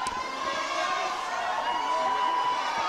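A Canadian home crowd roars steadily at a para swimming world championship, a dense, continuous cheer filling the pool arena, with a whistle-like tone running through it.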